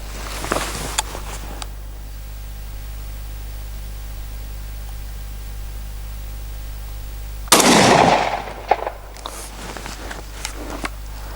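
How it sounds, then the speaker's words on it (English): A Pardus LAX12 camo lever-action shotgun fires 6-shot at a turkey target 15 yards away. One loud blast rings out mid-clip, with a few faint clicks and handling knocks from the action before and after it. "I'm just going to fire some 6-shot through it"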